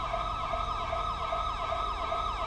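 A wailing ambulance siren from the LSPDFR police mod video game, sweeping steadily up and down, loud and continuous over a low engine rumble, with no talking.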